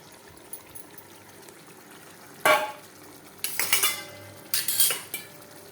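Water poured into a cooking pot of fish, heard as three bursts of splashing and sloshing mixed with metallic pot clatter over a quiet background.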